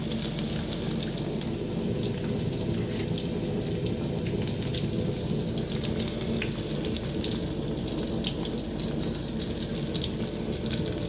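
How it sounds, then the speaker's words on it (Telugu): Onions frying in hot oil in a kadai for chicken Maggi, giving a steady, dense sizzle that runs unbroken throughout with no talking. "ఆయిల్ హీట్ అయ్యాక ఆనియన్స్ వేసుకుందాం."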